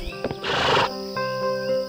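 A tourist's horse in a wild natural setting lets out a loud, close neigh that shakes into a breathy whinny, with a few clopping sounds and a sustained musical tone underneath.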